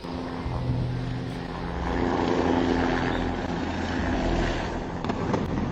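A steady roar of a helicopter passing overhead at a distance during street protests under curfew, swelling and fading slightly over several seconds.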